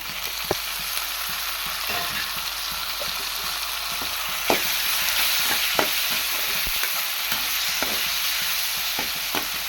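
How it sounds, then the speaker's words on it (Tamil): Tomatoes are tipped into ginger-garlic paste frying in a pan for a drumstick curry, making a steady, close hiss of sizzling oil with repeated scraping stirs and no talking. "இப்போ வதங்கியாச்சு இப்போ தக்காளி சேர்த்துப்பேன்"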